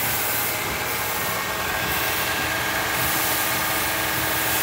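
The 3.5L engine of a 2012 Honda Odyssey runs steadily raised to about 2,500 RPM with the alternator fully loaded, giving a constant, even mechanical hum with no pauses and no talking.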